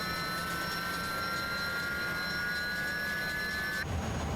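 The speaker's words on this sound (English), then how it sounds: "Let's listen to these lovely GE engines start up." GE jet engines spool up on an Airbus A300-600R in a flight simulator game: a steady, loud turbine roar with rising high-pitched whine tones that stop abruptly near the end, then a brief low rumble.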